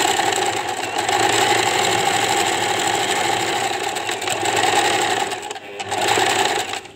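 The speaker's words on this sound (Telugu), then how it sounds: "ఇప్పుడు మనం ఫాల్ కుట్టుకుందాం." A sewing machine stitches a fall onto a saree, running loud and steady with a continuous whirring hum that dips briefly near the end before picking back up, with no talking.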